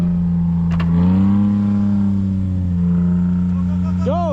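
A Jeep Wrangler YJ engine revs hard and loud with all four wheels spinning, holding a droning tone that rises and dips, with a brief shout near the end.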